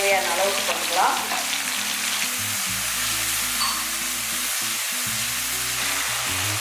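Masala sizzles steadily in a hot pan while being cooked down for a chicken kola urundai kuzhambu, a dense crackling hiss that runs unbroken throughout with a low musical hum beneath it.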